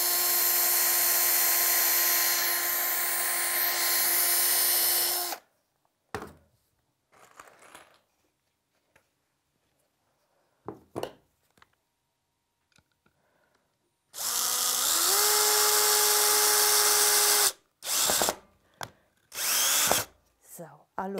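A power drill drives a second screw into a wooden bench, with a long loud whining burst, a quiet gap with small clicks and handling noise, then two more shorter drilling bursts.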